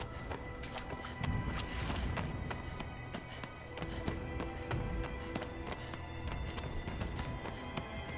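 Horse hooves clip-clop in a steady galloping rhythm in the video game Shadow of the Colossus, close and continuous over low rumbling game ambience.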